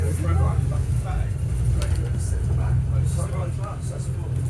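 A London bus on route 41 between Tottenham Hale and Archway, with a steady low engine rumble and road noise filling the cabin while people talk nearby.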